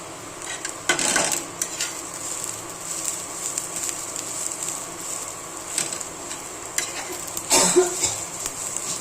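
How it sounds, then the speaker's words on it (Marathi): Grated coconut roasting with onions in a pan, a low steady sizzle broken by a few louder scraping stirs, one near the start and one near the end, close by with no talking. "आता ह्याच्यामध्ये आहे ना हे खोबरं ॲड करायचं भाजायला."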